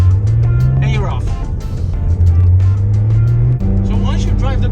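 A Porsche GT3 RS with a racing clutch pulling away, engine note rising and shifting as it gets moving, heard from inside the car with a voice talking over it.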